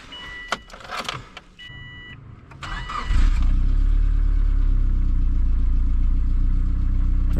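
A Subaru engine, freshly installed, cranks and catches after a few seconds of clattering workshop noise, then settles into a loud, steady idle that runs close up to the end.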